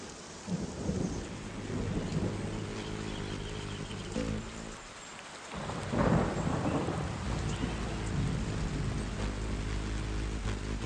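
A thunderstorm with steady heavy rain hissing throughout, with a deep rumble of thunder rolling through the middle and swelling again toward the end, loud and continuous.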